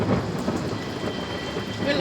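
Rain falling outdoors, a dense steady hiss of drops with low rumbling underneath, continuous and fairly loud throughout.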